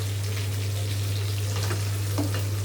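Curry leaves sizzle in hot oil for a mango pulihora tempering, a steady close frying hiss with brief crackles and a low constant hum underneath, no voices.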